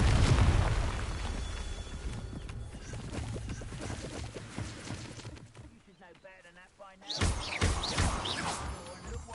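A Confringo fire spell in the Hogwarts Legacy video game bursts with booming explosions amid loud spell-casting effects, dense and roaring at first, easing into a quieter stretch, then flaring again with bright crackling blasts.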